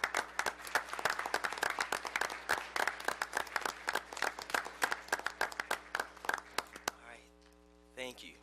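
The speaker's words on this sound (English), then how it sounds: "we can give them a round of applause for the great work that they're doing on a daily basis" Applause from an audience at a city commission meeting, a dense run of sharp, close claps that continues steadily for several seconds, then stops abruptly as a voice begins speaking.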